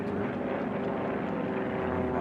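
Formula 1 class race airplane with a propeller engine passing the home pylon during an air race championship heat, a steady loud drone held close throughout.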